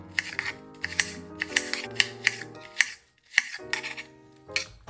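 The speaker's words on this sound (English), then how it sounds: "I'm gonna toss it right into my salad." Chopped apple strips drop into a salad bowl in a series of crisp clicks and light clatters with an uneven rhythm, close up over soft background music.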